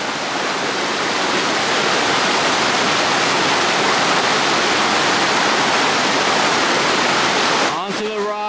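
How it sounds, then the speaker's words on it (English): Loud, steady rushing of river water fills the scene as hikers cross a river, a continuous broadband roar that cuts off near the end when a voice briefly breaks through. "There's Caleb crossing the river"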